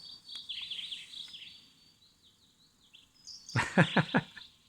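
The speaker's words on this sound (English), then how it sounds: "bird songs." Synthetic birdsong from an electronic keyboard chirps and warbles in a quick high trill, then fades, followed by a few short, sharp sounds near the end.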